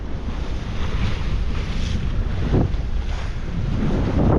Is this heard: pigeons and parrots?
no